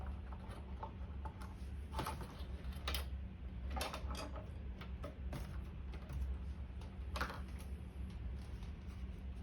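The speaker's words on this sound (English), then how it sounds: "this reverb tank wiring is being a pain in the butt, so let me unscrew it from here" Unscrewing reverb tank wiring from a Mesa Mark combo amp, with quiet irregular clicks, small metallic ticks and faint creaks of a screwdriver working close by over a low steady hum, no talk.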